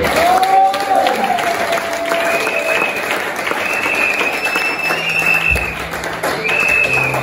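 A church congregation applauding for the Lord during a service, dense sustained clapping from a crowd heard throughout, with voices and music audible over and under it.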